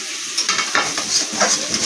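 Prawns fry in a pan with mustard, garlic and sugar, giving a close, steady sizzle broken by repeated scraping stirs of a spoon against the pan, with no talk over it.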